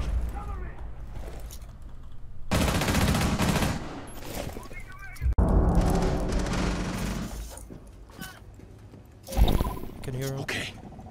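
Bursts of video game gunfire, including rapid automatic fire, come in loud clusters between pauses while players talk over them.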